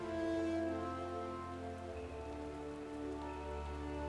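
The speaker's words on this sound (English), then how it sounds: "Is it just raining everywhere?" Steady rain falls on surfaces in Final Fantasy XIV, a continuous even patter laid over sustained tonal game music, with no talking.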